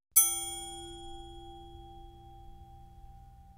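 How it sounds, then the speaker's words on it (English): Metal crosspiece from a French press struck once, giving a bright ding with a clanging attack and a pure, sustained ringing tone that slowly fades over several seconds, heard alone. "I've imported one of the sounds that I got from the metal crosspiece into Iris 2."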